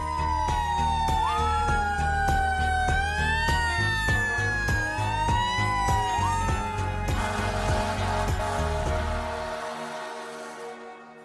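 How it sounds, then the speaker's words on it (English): Emergency sirens wail and sweep up and down over steady street noise, loud and close, then fade away toward the end. "I'm talking, of course, about sirens."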